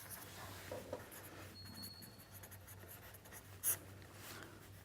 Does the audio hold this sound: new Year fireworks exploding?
no